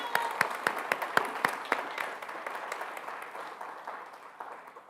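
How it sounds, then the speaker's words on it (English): A graduation ceremony crowd claps together, loud and sharp at first, then thins into lighter, scattered clapping as the applause fades. "I want to give you a round of applause."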